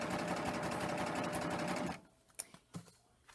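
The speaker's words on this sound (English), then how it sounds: "the feed dogs will start pulling it in, and I can just have my machine to sew." A serger stitches rapidly with its knife trimming excess fabric, a dense mechanical whir for about two seconds before stopping, followed by a few soft clicks and handling taps.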